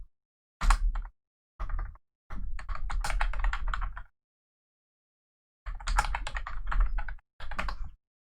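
Bursts of quick, close keystrokes on a computer keyboard as a new password is entered, in several clusters separated by silent pauses, with no talking.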